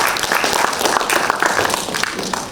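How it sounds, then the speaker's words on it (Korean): An audience at a small-business policy forum applauds Professor Lee Ha-su in a steady, dense wash of clapping that holds at full strength throughout without fading. "주제를 보내주신 이하수 교수님께 다시 한번 큰 박수 부탁드리겠습니다."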